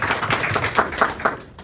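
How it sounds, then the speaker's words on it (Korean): A seminar audience claps for a team leader, a short, close burst of applause with a few sharper individual claps standing out before it fades. "우리 진영란 팀장님께 큰 박수 부탁드립니다"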